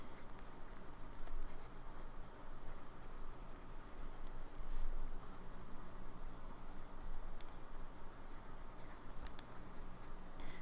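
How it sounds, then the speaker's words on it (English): A TWSBI fountain pen with a medium nib writing on paper, giving a faint, close scratching with soft ticks and strokes that carry on steadily over a quiet background. "so I'll do a writing sample in here"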